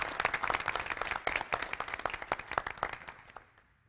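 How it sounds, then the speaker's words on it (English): Applause at an Everglades restoration gathering, a smaller group clapping with individual hand claps clearly distinct in a quick irregular rhythm, thinning out and dying away near the end. "So a round of applause for Ray."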